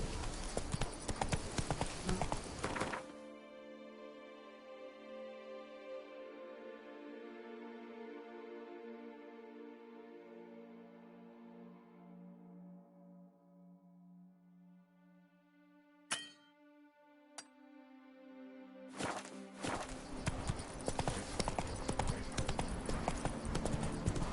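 Horse hooves galloping in a PS4 video game: rhythmic clip-clop bursts at the start and end, with a quieter stretch of tonal game sound in between and a couple of sharp clicks.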